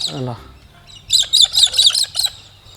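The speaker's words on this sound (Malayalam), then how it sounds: "കിളികളൊക്കെ പയ്യെ കൂട്ടി കയറാറായിട്ടോ" A burst of bright, rapid bird chirps repeats in quick bursts after a brief low sound at the start, fairly close and clear.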